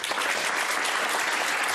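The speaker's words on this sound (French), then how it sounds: "On peut l'applaudir, il a payé" Studio audience on a French TV talk show applauds a guest, Pierre Botton, with steady, dense clapping sustained throughout at full volume, with no talk over it.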